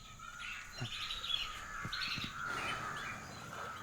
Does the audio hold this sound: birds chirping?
yes